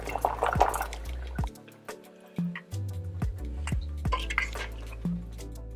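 Meat simmering in a soup pot on a home stove as it comes to a boil, with liquid bubbling and dripping broken by sharp clinks of a metal pot and utensils, close and fairly quiet.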